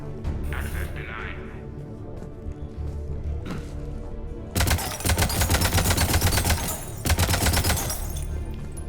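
Rapid bursts of automatic gunfire in Mass Effect 3 Legendary Edition crackle loudly in two long volleys, following a stretch of quieter game sounds and a voice.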